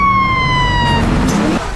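An ambulance siren wails loudly at close range, a steady high tone with rising harmonics, over the rumble of road traffic, then cuts off abruptly as the vehicle goes by.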